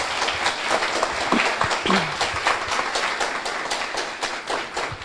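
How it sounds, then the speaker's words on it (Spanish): Audience applause for a doctor after a lecture on project initiation and planning, a steady wash of many hands clapping with scattered sharper claps and brief crowd noise throughout. "por favor, un fuerte aplauso al doctor."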